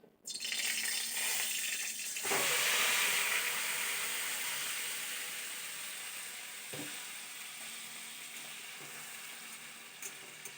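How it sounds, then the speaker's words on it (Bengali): Fish frying in a pan gives off a steady sizzle, loudest just after it goes in, with a couple of brief clatters, then easing to a softer hiss as the frying continues. "এখন মাছটা দিয়ে দিচ্ছি এই যে দেখো"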